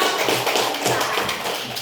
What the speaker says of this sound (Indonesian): Kasih tepuk tangan dulu untuk kelompok 4.